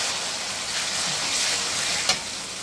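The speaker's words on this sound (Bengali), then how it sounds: "আদা রসুনটা ভেজে নিচ্ছি, একটু পানি অ্যাড করবো।" Ginger and garlic paste frying in a pan after sliced onions, for a fish dopiaza: a steady, close sizzle with a brief sharp crackle near the end, no voices.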